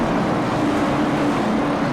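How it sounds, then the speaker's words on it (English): Late model race car engines roar together under the lights at Thompson, a dense, steady, loud drone of many engines filling the air without a break. "Listen to all that horsepower."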